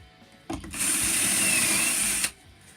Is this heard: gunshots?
no